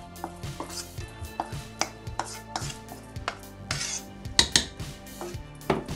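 A metal spoon scrapes and knocks against a cooking pot while stiff kenkey dough is worked, giving irregular, close clanks and scrapes with no talk.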